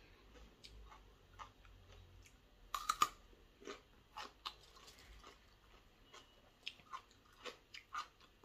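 Blanched vegetables being eaten up close, heard as faint, sparse crunchy bites and soft chewing clicks spread irregularly over a quiet background.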